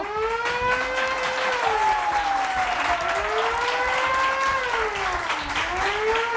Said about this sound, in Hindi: इनको जगाओ, जागो जागो, तालियां बजाओ पाकिस्तानियों